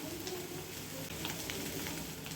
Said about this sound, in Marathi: हे वाटण थोडंसं टाकून घेऊयात वाटण मी छोटे चार चमचे टाकून घेतलेलं आहे आता छान परतून घेऊयात